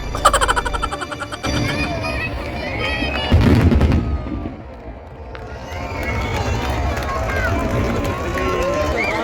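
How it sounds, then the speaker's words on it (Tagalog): Crackling fireworks bursts and pops at an Eid al-Fitr 2024 celebration at Dubai Festival City, loud at first and fading to a steady rumble, with a crowd and voices shouting in the background. "panonood ng aking fireworks na pumuputok"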